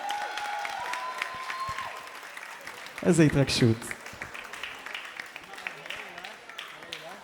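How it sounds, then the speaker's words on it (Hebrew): Wedding guests applaud the bride in a short burst of clapping around the middle, loud and brief, with an officiant and others speaking before and after. "תעשו כפיים לגברת פאר."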